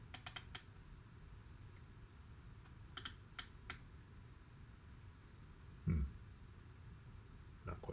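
Keys tapped on a computer keyboard during a live coding session: short clusters of crisp clicks with pauses between them, fairly close over a steady low room hum, plus one duller thump, and no talking.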